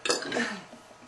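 A loud, raspy burp from a woman during a burping contest, one sustained belch lasting about a second, close and unbroken, with no other sound around it.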